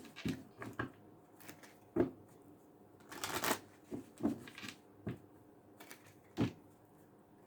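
Kipper fortune-telling cards being shuffled by hand, a run of crisp riffling bursts and soft slaps at an uneven rhythm, close and fairly quiet with no talking.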